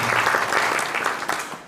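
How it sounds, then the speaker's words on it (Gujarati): Applause from an audience at a hall inauguration ceremony, a steady dense patter of many hands clapping close by for under two seconds. "એવા અરવિંદભાઈને આપણે ફરીથી તાળીઓથી વધાવીએ."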